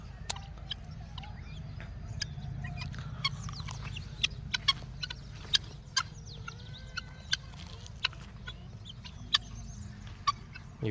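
Village chickens, native hens and roosters clucking in a farmyard, a steady run of short sharp calls and squawks scattered across the scene over a low background murmur, at moderate distance.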